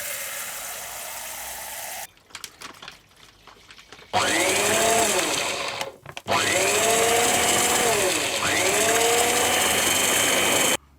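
A food mixer churns grout for a van kitchen build in two long, loud, close motor bursts, its whining pitch sagging and recovering as the blades bite into the thick mix.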